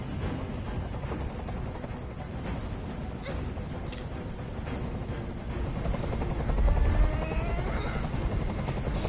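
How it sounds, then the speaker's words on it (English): A helicopter in the video game Detroit: Become Human hovers close by, its steady rotor drone filling the scene, growing slightly louder and heavier toward the end. "Tell that helicopter to get out of here."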